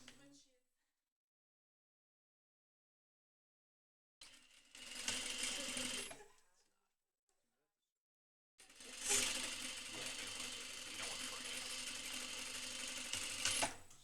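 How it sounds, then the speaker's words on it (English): A sewing machine stitches a double welt pocket in two bursts of rapid, steady mechanical clatter, a short run and then a longer continuous one, separated by silence, with a brief voice at the start. "We are going to sew all the way down."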